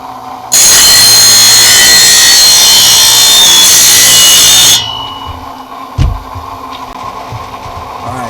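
A powered saw-blade sharpening tool roars loudly and steadily for about four seconds, grinding with a harsh, bright hiss, then cuts off, leaving a faint background hum and one dull knock.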